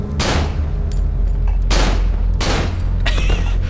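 Gunfire in the horror game Cry of Fear: three loud, sharp shots spaced roughly a second apart, each with a short rumbling tail, followed by a smaller metallic rattle.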